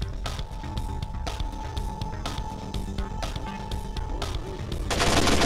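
Enemy gunfire in the GameCube stealth game Splinter Cell: a series of sharp, spaced shots cracks over a constant electronic hum, and a loud wash of noise swells up near the end. No one speaks.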